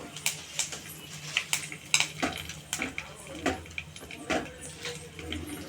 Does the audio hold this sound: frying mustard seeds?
yes